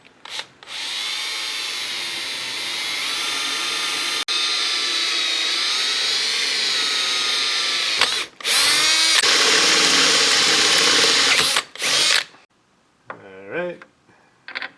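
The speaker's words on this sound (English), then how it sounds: "Go ahead and drill." A power drill whines loudly and steadily for several seconds, stops briefly, then runs again at a rougher pitch before a few short bursts at the end.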